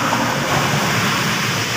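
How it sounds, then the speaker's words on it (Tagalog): Heavy rain pouring down as a steady, dense hiss that fills the whole short stretch, loud and continuous with no voices over it. "Parang lalakas na ata yung ulan."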